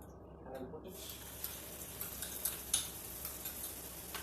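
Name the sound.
onion and garlic paste frying in hot oil in pan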